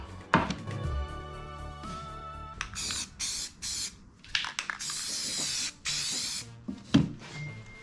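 Short bursts of aerosol spray from a can of self-etching primer and satin protective enamel hiss onto a modified AE86/KE70 crossmember, several close hissing passes separated by brief pauses and preceded by soft handling noises and music.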